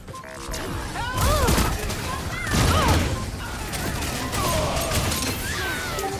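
Gunfire in the sci-fi shooter LawBreakers during a ball match: dense bursts of futuristic weapon fire, impacts and whooshing effects layered with game sounds, loud and continuous, with a voice talking over the action.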